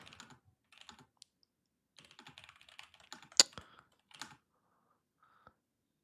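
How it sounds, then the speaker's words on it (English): Computer keyboard typing nearby in scattered, irregular bursts of soft key clicks, with one sharp louder keystroke standing out and brief pauses between runs. "He's typing it."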